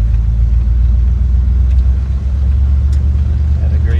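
A 1953 Oldsmobile 88 with a new front-to-rear exhaust rumbles loud and deep from inside the car, a steady low drone while cruising with no break in the engine note.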